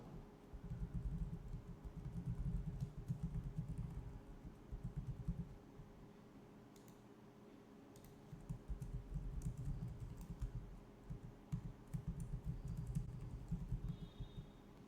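Close, quiet typing on a computer keyboard, coming in steady bursts of rapid key clicks with a short pause midway and a faint constant hum underneath.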